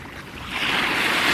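Water waves washing in toward a tent at a campsite, a broad rushing surge that swells and grows louder midway and stays steady and close.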